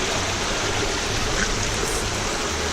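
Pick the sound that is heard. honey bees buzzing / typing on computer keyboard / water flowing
water flowing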